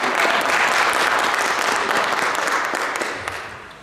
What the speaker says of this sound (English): Let's get a nice round of applause for Dave.